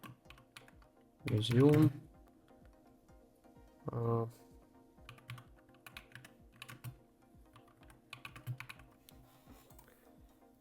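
Computer keyboard typing while entering details into a website builder, short clustered keystroke bursts with brief louder thumps, moderately near and mostly alone with faint background noise.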